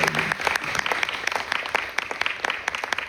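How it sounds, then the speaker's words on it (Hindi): Audience applause at an acid attack awareness talk, dense clapping from a crowd heard close and fairly loud, steady throughout with sharp individual claps standing out. "आप जोर से बजा सकते हैं ताली।"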